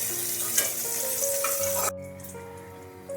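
Cut potatoes sizzle loudly in hot oil in a wok while being stirred, with a steady tonal hum underneath; the frying drops abruptly quieter partway through and continues more softly.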